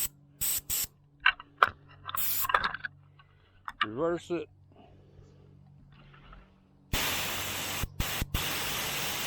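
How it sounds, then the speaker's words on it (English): An airless paint sprayer hisses loudly in short bursts through its tip during cleaning, then a longer sustained spray, with someone speaking briefly between them and some clicking handling. "So spray your tip out again"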